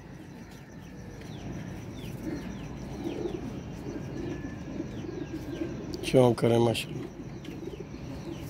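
Pigeons coo softly over a low, steady outdoor murmur, with a brief louder call near the end as someone speaks.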